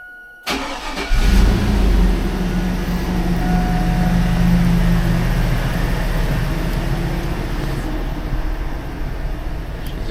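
A 2001 GMC Yukon engine cranks over and catches on a Compustar remote starter, then settles into a steady, fairly loud idle close by.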